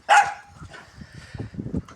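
A dog gives a single loud, sharp bark up close, then falls to soft, low whimpering and snuffling noises.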